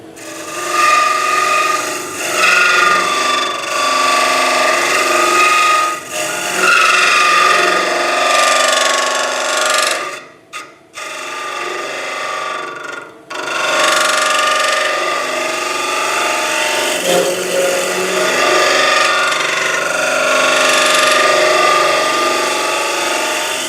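A spindle gouge scrapes and cuts spinning wood on a lathe while turning a wooden Roman canteen, a loud continuous rasping close by, broken only by a brief pause midway.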